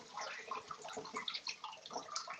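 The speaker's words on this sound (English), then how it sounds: "just run your knife under some hot water" Hot tap water runs steadily over a knife blade being rinsed in a kitchen sink, a continuous splashing stream with no talking.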